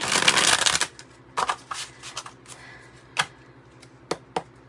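Gold foil tarot cards being shuffled: a dense riffling burst up front, then several short separate card flicks and taps, close and fairly quiet, with no talk.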